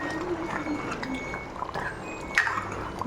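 A pot of yellow pumpkin tamarind kuzhambu simmers at a low boil, giving soft bubbling, popping and occasional liquid blips at moderate distance with no voices.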